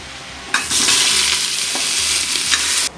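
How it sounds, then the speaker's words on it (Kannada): Raw chicken pieces dropped into a little hot oil in a pan for a home-style egg and chicken sambar, bursting into a loud, close, sustained sizzle with a brief stir partway through. "ಈಗ ಚಿಕನ್ ಹಾಕ್ತಾ ಇದ್ದೀನಿ"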